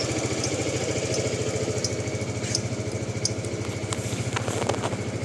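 A Zontes 250TE motorcycle engine runs steadily at a near, even idle, its low pulsing throb continuous throughout with faint ticking and clicks on top.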